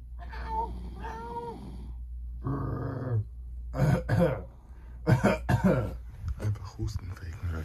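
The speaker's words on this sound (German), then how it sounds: "Einfach Husten faken bei sowas." A man fakes a cough, making a few short throaty cough and throat-clearing sounds close up, mixed with brief vocal noises against a low background hum.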